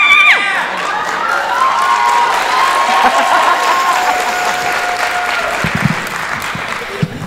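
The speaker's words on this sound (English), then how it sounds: "just clap really loud" Loud, sustained applause and cheering from an audience at a school fine arts festival show, with a few whistles and shouts in a dense, close crowd roar lasting several seconds.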